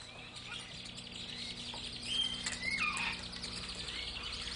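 A voice imitates the call of the flip-wing Zanzibar bird with faint high chirping and whistling sweeps over a hissy background, growing slightly louder midway.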